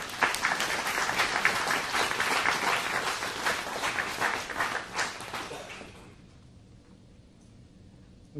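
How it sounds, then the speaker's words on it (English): An audience at a recognition ceremony applauds the evening's winners, steady clapping that holds for about six seconds and then fades out to near quiet. "I'm going to ask you guys to give a round of applause to just all the winners for tonight."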